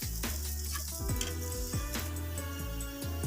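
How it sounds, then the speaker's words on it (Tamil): Onions sautéing in a pan give a loud, steady sizzle broken by rhythmic stirring strokes roughly every second, close up with no voices. "ஒரு பக்கம் ஆனியன் நல்லா வதங்கிட்டுருக்கு"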